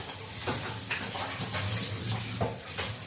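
Achappam batter being mixed in a bowl for Onam cooking, with soft repeated stirring and light scraping against the bowl. The utensil knocks and strokes come at a steady, close rhythm in a quiet kitchen.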